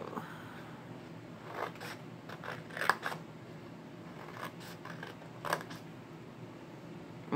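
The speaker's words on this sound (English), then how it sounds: "we're going to cut just this little part of the gusset out right here on the top" Scissors snipping through the paper gusset of a handmade mini album, a few faint close cuts and creaks over quiet room hiss.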